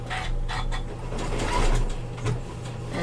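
A sewing machine stitches across a bag handle, a steady close mechanical whir with rapid rhythmic needle pulses that briefly surge and ease, with no talking.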